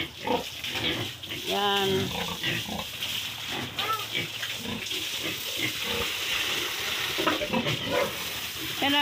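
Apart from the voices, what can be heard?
pigs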